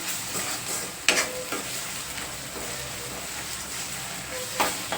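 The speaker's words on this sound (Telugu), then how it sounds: "ఇలా కలుపుకుంటూ పచ్చివాసన పోయేంత వరకు నేనైతే వేయించేసుకుంటాను" Ginger garlic paste frying and being stirred in a pan for Andhra-style prawn gongura curry, a steady close sizzle with a few louder scraping stirs, no talking.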